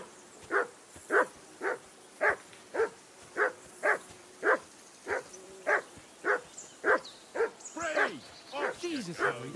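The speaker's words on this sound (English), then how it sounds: "Jesus, Harry, that barking's driving me nuts." A dog barks steadily in the video game Kingdom Come: Deliverance II, about fifteen evenly spaced barks at a moderate distance, ending in a burst of yelps.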